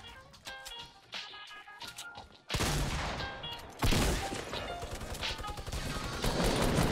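Fortnite: Battle Royale gunfire with burst-weapon shots and explosive hits plays in fast, clustered volleys, growing denser and louder in the second half.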